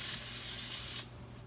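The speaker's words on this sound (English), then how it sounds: "So we're gonna go ahead and just spray the pan and set it off to the side." Non-stick baking spray hisses onto a cake pan in a few short close bursts, each a sharp airy spray separated by brief pauses.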